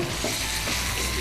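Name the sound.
fish frying in oil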